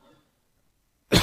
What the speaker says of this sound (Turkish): öksürük tuttu ya.